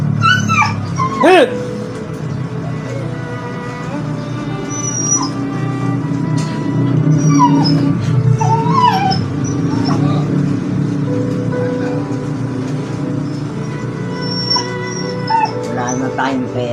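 A dog whimpers and gives high yelps and short barks, close and loud, while several people talk steadily over it in a busy room.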